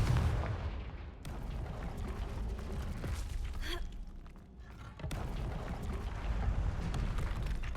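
Blasting Confringo spell explosions in Hogwarts Legacy, a couple of muffled, moderately loud bursts with a brief lull between them over a low, rumbling game background.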